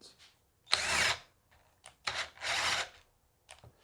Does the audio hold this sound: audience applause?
no